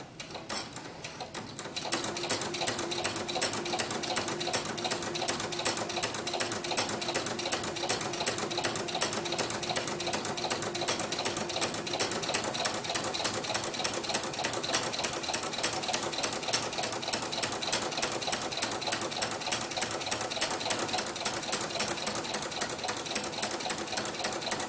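Sewing machine fitted with a ruffler foot gathering organza for doll clothes, running steadily with a fast, even mechanical chatter and rhythmic clicking of the ruffler, close and continuous for the whole stretch, no talking.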